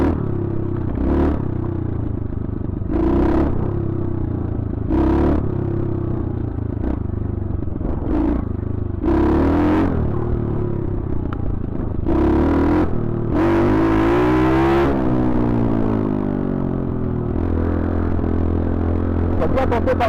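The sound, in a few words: dirt bike engine roaring in a tunnel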